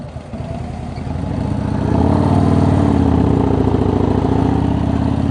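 Car pulling away from a stop with the clutch ridden, engine droning low then rising in revs and holding a strained, even roar, close and loud with no voices.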